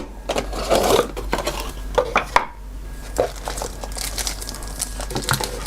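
An Android TV box's packaging is handled up close: crinkly rustles and sharp taps and knocks come in uneven bursts with short pauses, with no talking.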